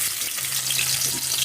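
Hot oil in a wok-style kawali hissing with a steady, bright sizzle, continuous and fairly close, with no talking over it.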